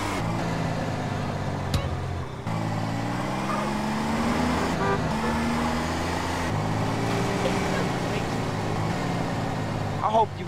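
A car engine drones and shifts pitch while driving through the streets in GTA San Andreas, steady and close, rising and falling with gear changes, with occasional bumps and voices talking over it.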